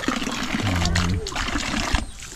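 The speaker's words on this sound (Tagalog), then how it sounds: "May flowing water tayo ngayon." Water trickles and splashes into a fish pond with a steady flow close by, while someone talks over it.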